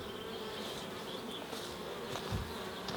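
Honeybees humming in an opened hive during a beekeeping inspection, a steady dense buzz filling the space with brief louder swells as individual bees pass close.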